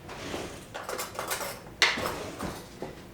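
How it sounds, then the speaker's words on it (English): In a kitchen making duck egg mayonnaise, a spoon is taken from a drawer. Soft rummaging and clattering sounds lead up to one sharper metallic clink, close and fairly quiet, with no talk. "I'm going to grab a spoon real quick."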